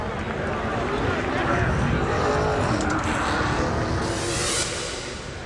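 A 2003 NASCAR Cup race car at full throttle on a qualifying lap, loud and close as its engine roars steadily past, sweeping through and fading slightly near the end.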